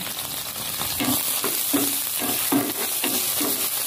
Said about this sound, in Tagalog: ilagay na natin yung sibuyas bawang. Ayan. Tapos, haluin natin.